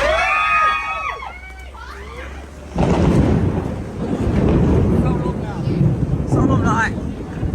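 Storm wind and heavy rain batter an outdoor mor lam concert stage in Thailand as it collapses onto a truck, a loud broadband roar that surges abruptly after a quieter opening with whistly gusts.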